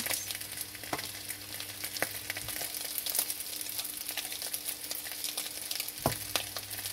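Black rice frying in a pan with ham and eggs gives a steady, bright sizzle throughout, broken by a few sharp clicks of a utensil against the pan.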